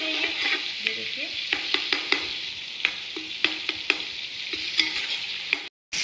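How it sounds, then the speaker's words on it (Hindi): Garlic frying in a pan for mutton biryani, a steady close sizzle with scattered clinks and scrapes of stirring throughout, broken by a brief dropout near the end. "ये थोड़ा सा हमारा फ्राई होगा लहसुन"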